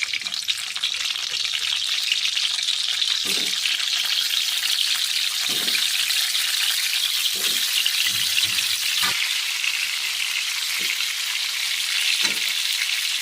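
Whole pointed gourds (parwal) frying in hot oil, a steady bright sizzle running throughout with occasional soft pops and bubbling bursts, close and fairly loud, no talking.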